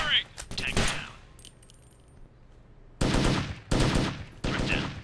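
Gunfire in the tactical shooter Takedown: Red Sabre, sharp rifle shots, one burst at the start and then three evenly spaced loud reports, with brief radio-style voice chatter between them.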